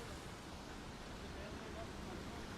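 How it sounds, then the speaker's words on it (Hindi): Water rushes steadily down from above into a water-powered grain mill in a rural valley village, a continuous broadband roar with no breaks, fairly faint and heard alone. "जो ऊपर से पानी आ रहा है"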